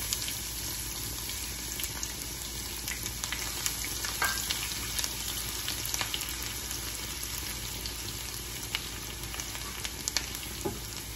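Five-spice seeds and chopped garlic fry in hot mustard oil for a tempering, a steady dense sizzle and crackle that fills the whole stretch with scattered sharp pops, close and continuous with no talk.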